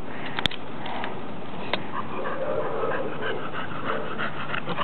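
A puppy pants quietly and steadily in the near background on a tennis court, with a sharp click and faint sniffs and patters scattered through.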